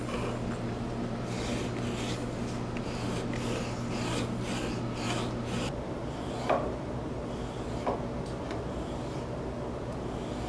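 A file rasps along the edge of a wooden knife handle scale in steady back-and-forth strokes, close and moderately loud over a constant low hum, with no talking.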